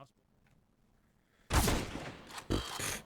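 P250 pistol fire in a Counter-Strike match erupts abruptly after a quiet stretch, with a loud burst of sharp shots and a second loud crack about a second later, close and punchy.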